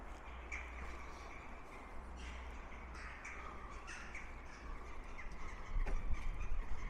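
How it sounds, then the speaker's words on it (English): Crows and rooks caw repeatedly at a distance at Kirkstall Abbey, harsh calls scattered over a low outdoor rumble, growing a little louder toward the end. "Lots of crows and rooks though, ain't there? Can you hear them?"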